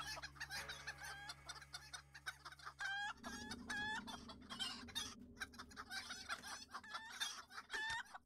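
Chickens in the game Lord of the Rings Online cluck in rapid, repeated bursts, loud and close, with a steady low background hum.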